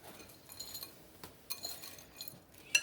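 Knife clinking against a plate while slicing a piece of bacon on top of a hot potato salad, a few light, close scrapes and taps with one sharper clink at the end.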